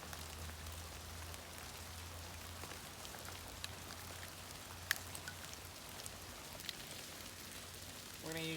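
Rain falls steadily at a campsite, a dense soft patter over a low hum, with a few sharper drops standing out and a brief stronger burst near the end.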